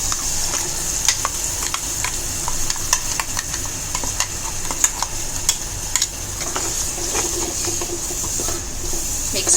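Ground masala paste frying with browned onions in a pan for a Malvani squid curry, a steady close sizzle and hiss broken by frequent scrapes and clicks of stirring, with no talk.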